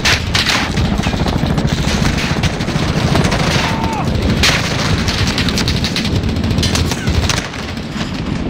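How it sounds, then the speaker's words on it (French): Dense gunfire crackles in a Call of Duty: Modern Warfare battle, with rapid machine-gun bursts and sharp shots layered over a constant rumble and scattered booms, loud and continuous. "Faites taire la mitrailleuse"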